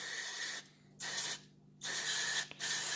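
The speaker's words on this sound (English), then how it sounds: "You're just going to spray it all out." Contact cleaner sprays from an aerosol can into an RC drag racing motor during a bearing replacement. It comes as three loud, sharp hissing bursts separated by short pauses.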